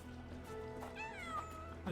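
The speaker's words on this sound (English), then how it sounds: "Ooh, kitty." A cat meows in a Sherlock Holmes: The Awakened game scene, one clear rising-and-falling meow over a steady background hum and faint voice murmur.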